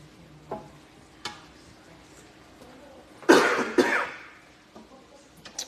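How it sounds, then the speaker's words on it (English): A person coughs in a short burst while cooking gumbo seasoned with Tony Chachere's, a couple of harsh close coughs and throat clearing over faint kitchen stirring and soft clicks. "Yeah, you sneezing, coughing."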